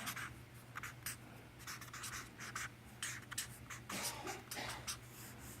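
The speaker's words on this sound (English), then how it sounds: "let me write this down because I always have to have it on here" Pen strokes scratch across paper as notes are written by hand, in short, quiet bursts of scribbling with brief pauses and no speech.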